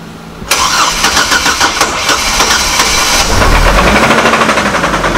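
A Hummer H3 engine cranks and catches abruptly after a brief quiet moment, then runs loud and unevenly close by, settling into a rough idle with knocking undertones.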